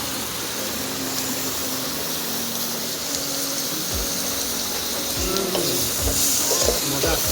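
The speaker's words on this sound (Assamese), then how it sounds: "চাওক তেল নোহোৱাকৈ কিদৰে গাহৰি মাংস বনাব পাৰি" Pork cooking without oil in a pan during a trip outing, a steady loud sizzle with scraping and stirring strokes that grow more frequent in the second half, and faint voices in the background.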